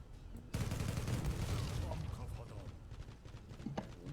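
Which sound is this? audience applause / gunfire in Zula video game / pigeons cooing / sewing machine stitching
gunfire in Zula video game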